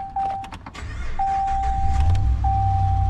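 A car engine cranks and catches, its low rumble rising and settling into a steady idle, close by, while a repeating chime pings three times.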